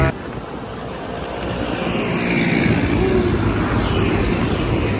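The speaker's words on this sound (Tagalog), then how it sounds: "Mga motor dito guys." Motor vehicles on a road in Parañaque, motorcycles among them, make a broad engine rumble that grows louder as they pass close by. The noise is steady, with no talking.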